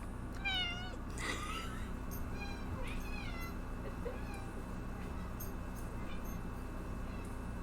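A cat meows several times in the first few seconds, short rising calls over a low steady hum, then only the background remains.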